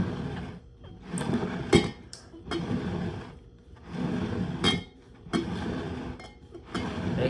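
Glass beer bottles, Corona Familiar and Corona Extra, being shuffled around on a table, giving scattered clinks and knocks with quiet shuffling gaps between them, close by and without talk.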